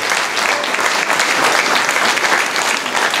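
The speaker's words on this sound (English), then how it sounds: "So I would like you to applaud some of the really incredible people that you're sitting next to" An audience at a presentation breaks into applause, a loud dense wash of clapping hands that holds steady throughout, with a murmur of voices faintly mixed in.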